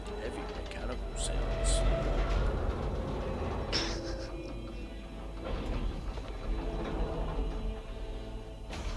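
A train rolls along in the Gears 5 video game, a steady low mechanical rumble with metallic clanks and a few sharp hisses and squeals riding over it, continuous and fairly close.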